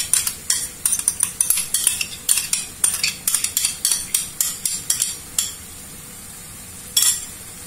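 Béchamel being stirred into tomato sauce, with a quick, steady series of bright clinks and scrapes of a metal utensil against the pot, close and loud, ending in a pause and one last clatter.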